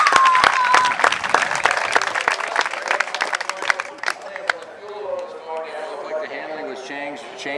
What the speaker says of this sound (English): all you boys give yourselves a round of applause for finishing that one